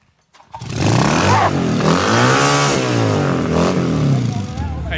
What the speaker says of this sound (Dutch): Wij maken hier live televisie, nu knalst je maar die motor terug.